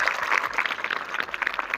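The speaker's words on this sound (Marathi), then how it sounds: "जोरदार टाळ्या वाजवून सर्वांनी स्वागत करावं" Students at a school health-guidance event clap to welcome a visiting doctor, a steady, fairly loud round of applause from a roomful of hands with no talking.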